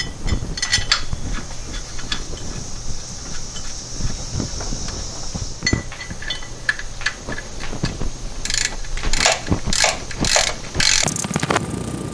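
A ratchet clicks in repeated bursts while tightening a bolt during transmission and clutch work on a 1993 VW Cabriolet, with a steady near rhythm of pawl clicks and some metallic handling noises, no talk.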